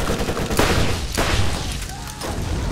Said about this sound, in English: Dude's shooting at us.